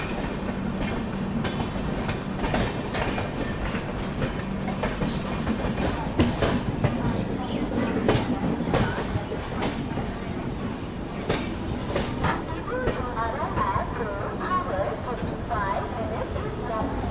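Grand Trunk Express pulling into New Delhi station early in the morning, with a steady rolling rumble, repeated clickety-clack beats from the wheels over the rail joints, and occasional squeals, heard from inside a 2AC coach alongside some voices.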